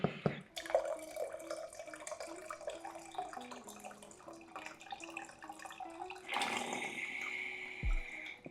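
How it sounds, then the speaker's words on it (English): Tap water runs from a kitchen sink into a Brita-style filter carafe, a steady close trickle that swells into a louder, brighter pour near the end, with no talk over it. "I take the water from the sink in this kind of like brita carafe"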